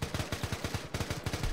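Rapid bursts of automatic gunfire from the ARMA 3 video game, set in a 1944 battle for Mortain, crackle in a steady rhythm of about a dozen close, loud shots with a brief pause midway.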